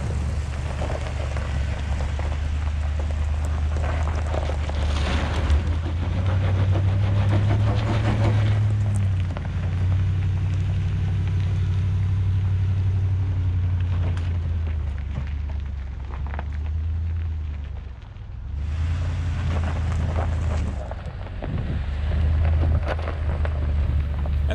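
A 2020 Ford F-250 with the 7.3 gas engine climbs a steep off-road hill in four-wheel drive high, its low engine drone rising and falling under heavy wind buffeting on the microphone, with no one speaking.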